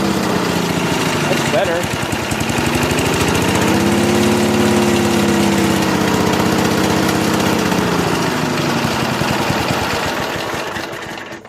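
A free Snapper walk-behind lawn mower with electric start runs steadily at close range, its small engine droning evenly with a slight pitch rise midway, needing carburetor cleaning; someone speaks briefly early on.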